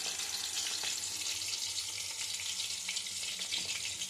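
Oil goes into a hot frying pan while making laddu, giving a soft, steady sizzle and hiss that runs unbroken and fairly quiet throughout.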